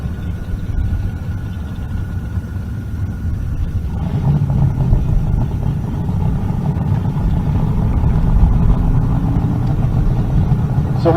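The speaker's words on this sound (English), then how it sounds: "Firebird, correct, big block Chevrolet with 2 big turbos." Twin-turbo big block Chevrolet Firebird race car at a Pueblo, Colorado drag race, a steady engine drone that swells louder and rougher partway through, with crowd and ambient noise around it.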